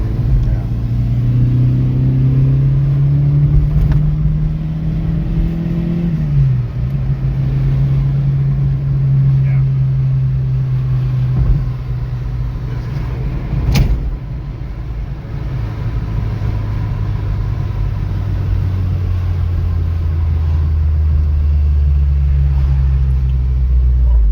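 An early Mk2 Volkswagen GTI engine drones steadily while driving, its pitch sliding up and easing off as it shifts, a constant loud rumble throughout.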